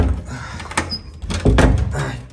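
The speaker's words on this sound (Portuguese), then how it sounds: "A porta não fecha." A door that won't close properly is pushed shut several times, giving dull thuds and rattles as it fails to latch, with a voice faintly in the background.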